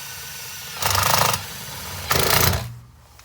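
A power drill bores through a van's wall in two separate bursts, each about half a second long and loud and buzzing, with a quiet interior hum in between.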